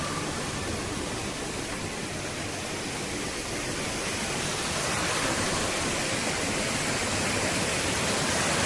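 River water rushing down from upstream through green countryside, a dense, loud, continuous roar of flowing water that swells slightly partway through, with no talking.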